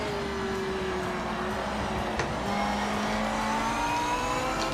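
A race car engine downshifting into second gear in Project Motor Racing, with a steady engine whine whose pitch drops and then climbs again as it accelerates, close and loud throughout.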